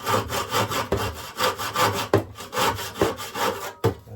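Rhythmic hand sawing through material for a model railway hillside embankment, steady back-and-forth strokes close up, about four or five strokes per second, with no talking.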